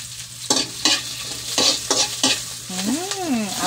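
Onion and garlic frying until golden brown, a close sizzle broken by several sharp stirring scrapes of a spatula in the pan, with a rising and falling whine near the end and no talk.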